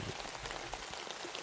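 Steady rain falls in a dense, even patter across the whole stretch, a continuous close wash of drops used as ambience for a tabletop fantasy role-play session on the road.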